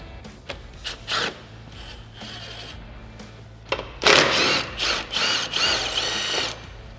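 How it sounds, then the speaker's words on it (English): A Torx screw and a 13mm bolt being removed from a Can-Am Maverick X3, with short ratcheting clicks followed by longer, louder bursts of a power driver spinning, close and without speech. "we're going to go ahead and remove this rearmost Torx screw right here, as well as this 13mm bolt"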